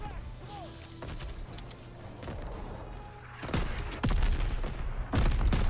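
Gunfire in the World War II shooter Call of Duty WW2, with bursts of sharp shots and heavy thuds that grow louder and denser toward the end, under a player's voice.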